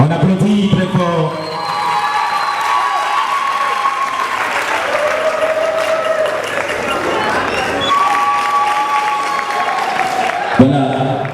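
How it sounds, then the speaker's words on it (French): An audience at an awards ceremony in a convention hall claps loudly and steadily, with scattered cheers and shouts rising above the applause, and an announcer's voice intermittently heard over the crowd. "On applaudit très fort"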